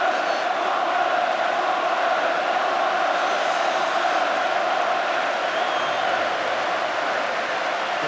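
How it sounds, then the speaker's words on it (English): Everton supporters in a packed stadium at the 1984 FA Cup final against Watford, a dense, sustained roar of crowd applause and cheering at even loudness throughout. "They're applauding Watford for their parts in this cup final today."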